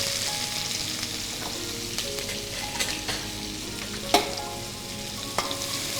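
Onions fry in hot oil with green chilli, chilli powder, turmeric, salt, ginger-garlic paste and garam masala for prawn thokku, a steady crackling sizzle with spatula scrapes and a few sharp knocks, close by, no talk.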